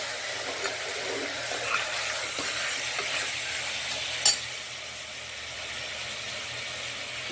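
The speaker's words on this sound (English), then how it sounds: "fry it to a light golden brown on a medium" Steady sizzling of frying for mutton yakhni pulao over a medium flame, cooking to a light golden brown; a continuous close hiss with a single sharp click partway through, no talking.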